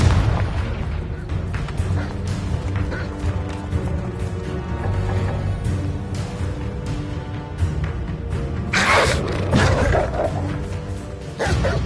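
Repeated fire-blast spell explosions in Hogwarts Legacy combat, heavy booming bursts over a continuous dense roar, with a louder flaring blast near the end.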